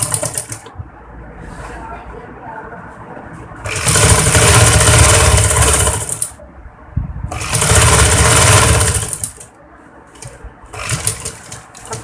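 Sewing machine stitching a straight seam on an apple-cut kurti, running in two loud, steady bursts of several seconds each with quieter pauses between.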